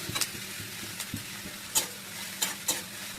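Chopped onions sizzle steadily in hot oil alongside ginger, garlic and green chili paste for a chicken curry, with occasional scrapes and taps of a stirring spatula in the pan, close and moderately loud.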